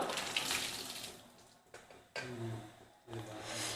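Cooking water poured off boiled vegetables, a close splashing and gurgling pour in several bursts with short pauses between, and no talk.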